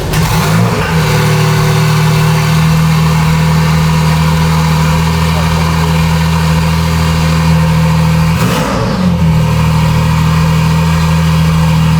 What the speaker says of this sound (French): je crois qu'on aura le droit à un démarrage.